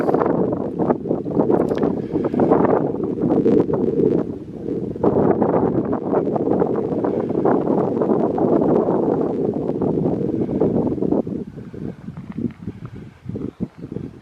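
Wind gusts on a bright day outdoors among rock formations, a steady low roar buffeting the microphone, with faint rustling and a few light knocks near the end.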